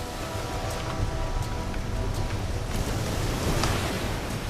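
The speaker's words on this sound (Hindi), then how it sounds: "कैप्टन, हवा का बहाव तेज हो रहा है।" Strong wind sweeps across the open sea, a steady, dense rushing roar with surf-like wash, constant and fairly loud for the whole stretch with no voices.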